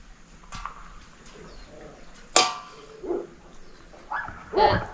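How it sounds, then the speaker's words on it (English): A dog barks a few times from somewhere up the shore near a house, heard from a motorized kayak on Smith Lake in Alabama, the barks fairly faint and scattered over quiet outdoor background. "There's a dog over here."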